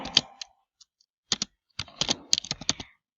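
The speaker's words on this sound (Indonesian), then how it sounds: "bisa dengan menggunakan tombol kombinasi, yaitu CTRL plus R" CTRL+R pressed on a computer keyboard, a few crisp key clicks in short bursts with gaps, close and alone with no talk.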